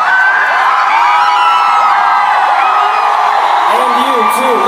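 A concert crowd cheering and whooping, a loud, steady roar of voices with shouts rising over it throughout.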